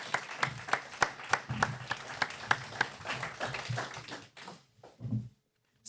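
Crowd clapping at the Paris Marathon, a steady patter of many hands, fairly distant and light, thinning out and stopping near the end.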